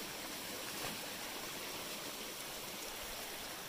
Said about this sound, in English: Got a little stream here.